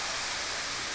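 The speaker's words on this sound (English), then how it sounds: "That's a big waterfall right there" Cocoa Falls, a big waterfall in a rainforest, gives a steady, broad rushing roar that stays even and loud throughout, with no other sounds standing out.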